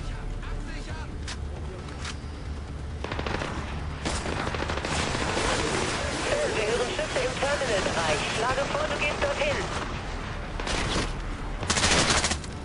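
Sustained gunfire in the stealth shooter Splinter Cell: Blacklist, dense rapid bursts and booms layered loudly over continuous game noise, with voices talking over parts of it.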